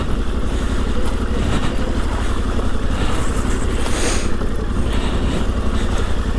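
A Yamaha Tenere 700 motorcycle ridden off-road gives a loud, continuous engine drone with a pulsing low rumble and rising and falling throttle. Wind noise sits on top, with no talk.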